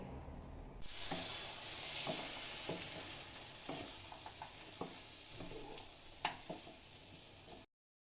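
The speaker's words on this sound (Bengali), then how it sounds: "ফ্রাইড রাইসের জন্য সবজি ভেজে নিচ্ছি" Vegetables for fried rice frying in a pan give a quiet, even sizzle, broken by occasional stirring clinks and scrapes, before the sound cuts off abruptly.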